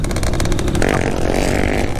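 A motorcycle accelerates hard on a dirt trail, its loud engine revving close up and shifting pitch midway, with no talking.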